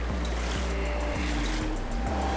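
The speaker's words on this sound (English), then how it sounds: "We got this really, really cool, badass little waterfall coming down here." A small waterfall pours into a clear trout creek, a steady, full rushing wash close by with a few low knocks, no voices.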